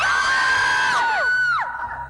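Game show contestants shout loudly together on cue, a sustained crowd yell with high whoops that tails off and breaks into separate falling cries near the end.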